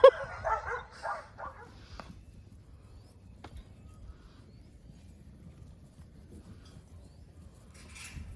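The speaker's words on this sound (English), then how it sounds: "That's the noise you hear when you've got 12 kelpies as your neighbours." Twelve kelpies barking next door, a short cluster of yaps and barks at the start that trail off into quiet, distant background noise.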